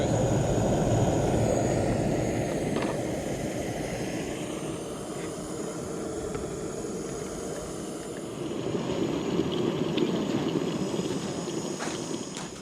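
Jetboil camping stove burner roaring steadily as it boils water for coffee, a broad, continuous rushing hiss that stays loud and even throughout with no voices.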